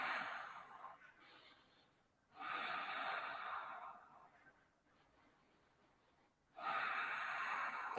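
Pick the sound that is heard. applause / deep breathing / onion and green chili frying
deep breathing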